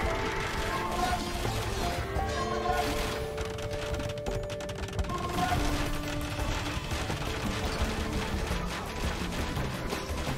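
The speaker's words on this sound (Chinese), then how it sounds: "长弓兵再继续做射击" Longbowmen loose rapid volleys of arrows during a siege battle in Age of Empires II, Britons against Italians, a dense clattering barrage of impacts and mechanical clanks running continuously, with a castle under attack amid the din.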